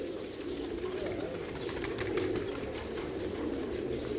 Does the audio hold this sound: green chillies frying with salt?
no